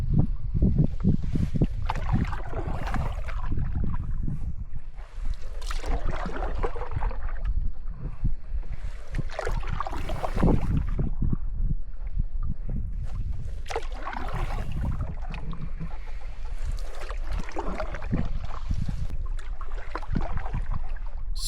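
Solo canoe paddling on a lake, low watery swishes and thumps recurring in slow strokes every few seconds, close and fairly loud, with wind rushing across the microphone.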